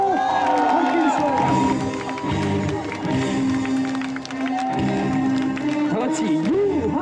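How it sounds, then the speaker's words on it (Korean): A baseball stadium crowd claps and cheers as the players walk out, a broad wash of applause and shouting running beneath a loud announcer's voice. "나이트 선수가 입장하고 있습니다. 큰 박수로 함께 해주세요."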